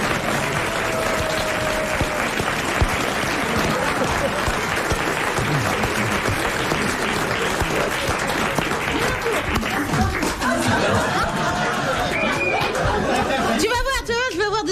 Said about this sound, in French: je vais avoir des applaudissements plus forts que les tiens